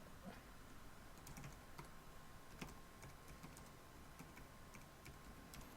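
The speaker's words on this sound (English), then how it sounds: "you can see I'm typing in the longer password" Computer keyboard keys tapped while a password is entered at a PDU login prompt, quiet and steady with a few sharper clicks over faint background hiss.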